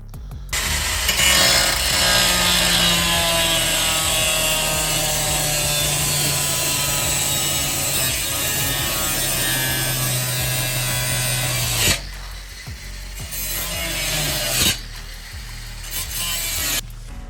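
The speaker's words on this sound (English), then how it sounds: "So we're gonna start cutting this out." Power saw cutting through the sheet-metal bed floor of a Mazda B2200 pickup, a loud continuous grinding buzz that runs steadily for about twelve seconds, then stops, restarts briefly and trails off in short bursts.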